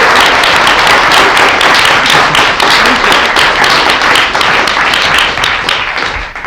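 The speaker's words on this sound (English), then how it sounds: "Can we just give Emily a round of applause?" A room full of people breaks into loud, sustained applause, dense clapping that holds steady and then starts to thin out at the end.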